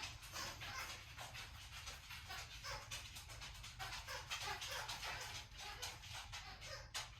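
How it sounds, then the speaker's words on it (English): A dog pants and snuffles close by while playing with its toy, which rustles and shuffles under it, a steady busy noise with a faint whimper, no talking. "You hear my dog and his toy right now."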